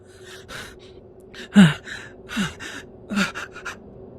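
Heavy, ragged breaths repeat in uneven bursts, a sharp gasping intake standing out among several quick exhalations, close and fairly loud.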